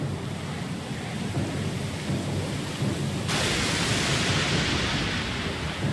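Storm at sea in Pillars of Eternity 2, a loud, dense roar of driving rain and rumbling thunder that swells brighter and harsher halfway through and continues unbroken, with no voices.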